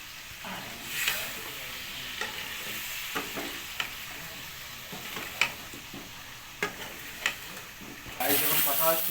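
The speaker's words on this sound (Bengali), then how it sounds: "হালকা জল দিয়ে এবার এটাকে কষা হবে।" Chicken and potatoes sautéing with a splash of water, giving a continuous hiss under intermittent scraping stirs and a louder burst of sizzle near the end; no talking.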